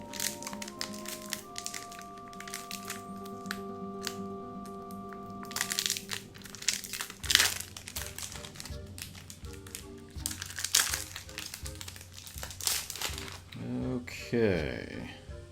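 A Magic: The Gathering draft booster pack wrapper is torn and crinkled open. Crackling foil crunches come in bursts over the clip, with quiet musical tones in the background and a louder rustle near the end.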